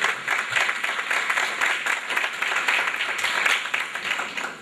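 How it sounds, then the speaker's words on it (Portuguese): An audience claps in sustained, steady applause at a lecture event on art and culture, a dense even patter that holds at one level throughout with no voices over it. "a gente saudasse o Erson pelo aceite desse convite, com uma salva de palmas"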